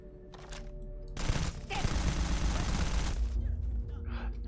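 Suppressed gunfire from a silenced weapon in Starfield, a sustained burst of rapid muffled shots lasting about two seconds, with a voice talking briefly before and after.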